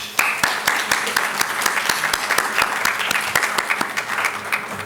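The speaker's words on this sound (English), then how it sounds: "let's give a huge round of applause for the entire team." Audience at a master class panel discussion on the urban life of caste applauds steadily, a dense, even patter of many hands with sharp individual claps throughout.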